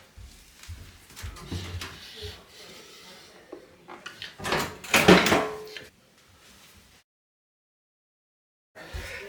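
The small access door on a Miele washing machine with an F53 fault is pulled open, giving close rubbing, scraping and clattering plastic sounds that peak, then fall to near silence before a brief knock.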